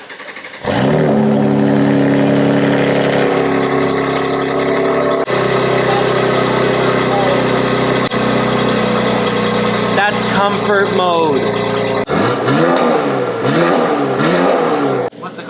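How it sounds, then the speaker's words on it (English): A car engine fires up, settles into a loud, steady idle, then rises in several sharp revs that swell and fall back near the end, close and heavy, with someone speaking briefly over it. "I'm going to do that now because I finally have a wide-angle lens that can actually capture it"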